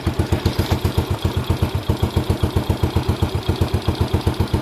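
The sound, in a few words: Postie Bike motorcycle motor running after assembly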